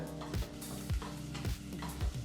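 Long-sliced onions frying in a pan for vegetable biryani, a steady sizzle broken by regular stirring scrapes roughly every half second, close and moderately quiet with no talking.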